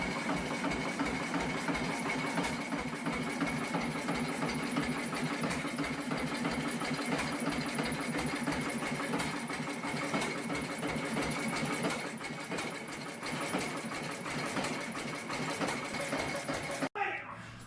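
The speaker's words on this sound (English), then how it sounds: "The Fairbanks Morse 40 horsepower Model NB engine was a heavy-duty stationary power plant" An old Fairbanks Morse 40 horsepower Model NB stationary engine chugs steadily at an even rhythm, loud and continuous, with a sharp click near the end.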